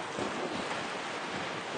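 Strong wind at sea rushes and buffets a sailboat in a broad, steady roar with gusty surges close to the microphone, no voices.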